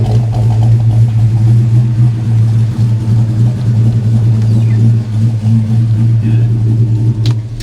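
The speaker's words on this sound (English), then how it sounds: "Don't worry, that's air conditioning." A car's air conditioning runs loudly alongside a steady low engine rumble, a constant close drone throughout with a brief bump near the end.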